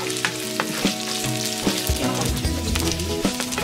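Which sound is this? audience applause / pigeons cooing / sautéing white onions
sautéing white onions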